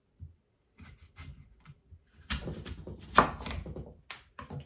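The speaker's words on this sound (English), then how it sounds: "So I cut this into smaller slices, starting, you know, right alongside the core." A knife slices through a vegetable alongside its core on a cutting surface, giving soft scattered cuts and then a denser crunching stretch, close up and quiet.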